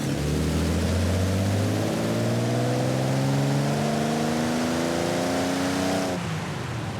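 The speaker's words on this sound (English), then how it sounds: "It's very low RPM, so it's hard to tell. It sounds like a V6." A V6 engine runs at low RPM with a steady, droning hum and rising harmonic tones as it gently revs, then cuts off abruptly near the end.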